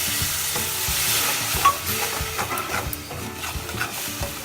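Tomato paste for paneer matar masala fries in a pan while being stirred, a close crackling sizzle broken by repeated scraping strokes of a spoon.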